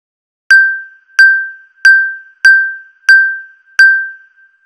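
A phone chimes six times with a bright, clear notification ding as messages arrive, evenly spaced and ringing out alone between hits.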